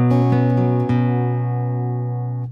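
An instrument heard through its pickup blended with a microphone, one sustained chord with a bright attack ringing out and slowly decaying, close and alone without talk.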